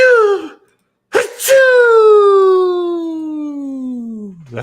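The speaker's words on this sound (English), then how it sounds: "a badass sneeze" One sharp, loud sneeze breaks in between long, drawn-out vocal tones that slowly slide downward.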